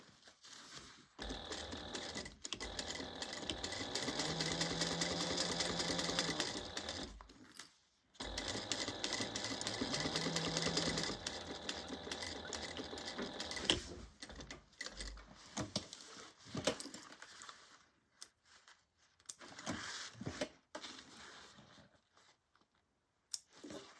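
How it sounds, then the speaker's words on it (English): Sewing machine stitching a bag gusset seam at a quarter-inch allowance, a fast, steady mechanical whir in two long runs separated by a short pause, followed by quieter clicks and handling noises. "you're going to sew that together at 1/4 inch seam allowance"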